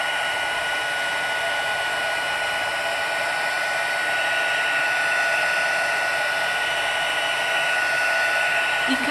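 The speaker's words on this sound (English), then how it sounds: "you can use the heat tool underneath or over the top" A heat embossing tool blows hot air steadily over a Valentine's card, a continuous loud whooshing hiss that holds unbroken for the whole stretch with no talking.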